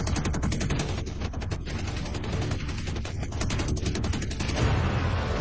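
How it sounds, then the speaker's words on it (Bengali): Loud, continuous bursts of rapid machine-gun and 20 mm cannon fire, with .50 caliber rounds tearing into the ground during a Soviet–American air attack on parked aircraft, forming a dense, relentless fusillade throughout. "20 মিলিমিটার শেল আর .50 ক্যালিবার গুলি মাটি চিরে যায়।"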